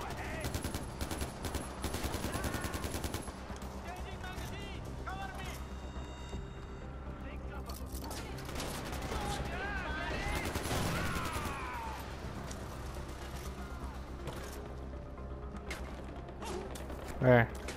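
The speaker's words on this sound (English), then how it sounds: "What the fuck are these guys shooting at me?" Enemy guns fire at the player in Far Cry 4, with dense rapid gunfire crackling through the opening seconds and then sporadic shots amid game noise and background music.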